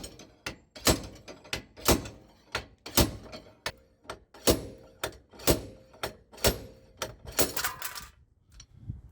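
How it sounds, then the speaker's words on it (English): A slide hammer repeatedly bangs on a crusty Mazda MX5 ND front wheel hub to knock it out, sharp metallic impacts in a rough steady rhythm, about twenty loud close blows over several seconds. "now we've got a slide hammer on it, so fixed on here, and obviously you're sliding it to bang this whole hub out of here"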